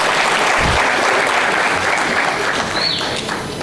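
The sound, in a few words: audience applause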